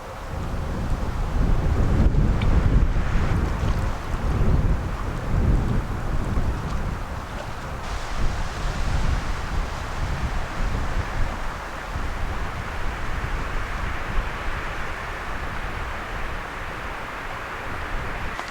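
Strong wind gusting across a lake campsite, buffeting the microphone in heavy low rumbles that swell loudest early on, then settling into a steadier rushing roar with no talk.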